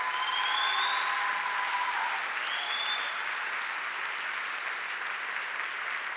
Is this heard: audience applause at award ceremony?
yes